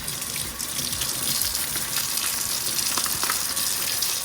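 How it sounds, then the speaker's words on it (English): Cold tap water runs steadily into a kitchen sink, a loud continuous splashing hiss that holds without pause for the whole stretch, with no talking over it. "we're gonna let our cold water run so that I can start to handle these"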